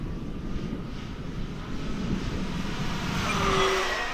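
An E-flite P-51D Mustang RC model warbird, a 1.5 m scale airplane, flies past with a steady broadband engine and prop drone that swells slightly louder near the end, heard alone without talk.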